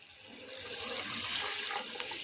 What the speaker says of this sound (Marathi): आता ही डाळ आपण 2 ते 3 पाण्याने स्वच्छ अशी धुवून घेऊया